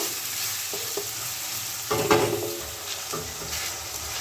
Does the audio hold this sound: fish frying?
yes